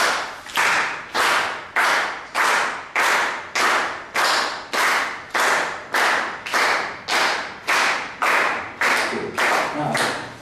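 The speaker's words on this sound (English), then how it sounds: "Let us just first start clapping together." A group claps together in a steady, even rhythm, about sixteen sharp, evenly spaced claps over ten seconds, loud and close with no talking.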